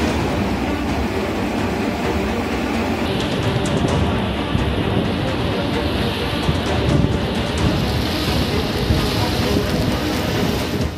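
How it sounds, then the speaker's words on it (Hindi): A continuous, loud rushing roar of fast-moving floodwater from a river in flood in Gujarat, India, fills the whole stretch, steady and broadband with no voices. "पानी का यह शोर दहशत पैदा करता है।"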